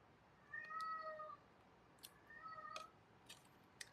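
Kittens mewing indoors, two clear drawn-out meows a second apart followed by a few shorter faint chirps, fairly quiet with a soft room hiss behind.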